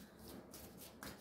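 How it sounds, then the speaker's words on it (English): A deck of cards being shuffled by hand, a quiet, brief riffle of soft papery flutters with no voices. "I just love to shuffle these."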